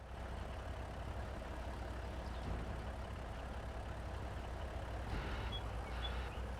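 A truck engine in Farming Simulator 25 runs steadily while driving, a continuous low rumble with a brief rise in pitch near the end.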